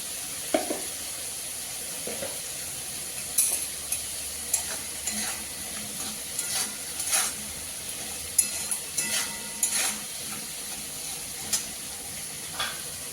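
Potatoes with turmeric and salt sauté in a pan, a soft continuous sizzle punctuated by irregular scrapes and taps from a spatula being stirred through them.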